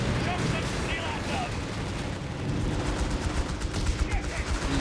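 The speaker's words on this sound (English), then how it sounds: "Using the machine gun." Battle noise in the WWII strategy game Company of Heroes 3, with a machine gun firing amid dense gunfire and explosions, a continuous rumbling barrage with sharper bursts toward the end, under a commentator's voice.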